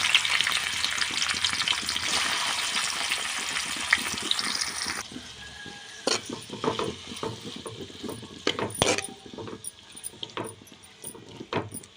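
Tomatoes frying in a pan for a chutney: a loud, dense sizzle for about five seconds, then a quieter crackle with scattered clinks and scraping taps of a utensil, near and without voices.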